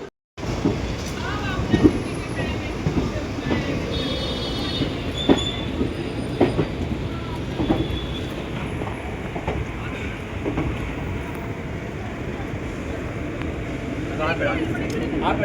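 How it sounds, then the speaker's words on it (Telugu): A passenger train pulling out of Tatanagar station, steady rumbling rail noise with wheel squeals and clanks from the carriage, while people talk nearby. "ట్రైన్ అనేది స్టార్ట్ అవుతుంది చూడండి"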